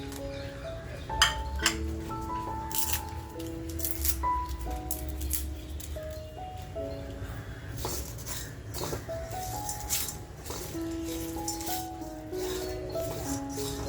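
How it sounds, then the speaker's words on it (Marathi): Whole garam masala spices dry-roasting in a pan for a kala masala mutton dish, with steady light rattling and clinking of spices and utensil against the pan, close up, over a continuous low background hum. "हे जे गरम मसाले आपण घेतलेत ना हे हलकेसे आपल्याला भाजून घ्यायचे"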